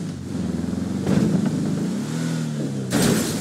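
Car engine in the video game GTA 5, a worn-out kidnapping car that cannot stop, whirring and revving steadily up close with a sharp bright burst near the end and no talk.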